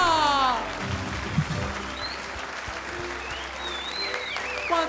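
Audience clapping for a ventriloquist's act, a sustained moderate patter of applause following a brief whistling tone, with a few faint whistles and cheers scattered over it.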